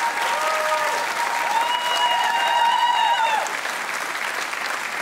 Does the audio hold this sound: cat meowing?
no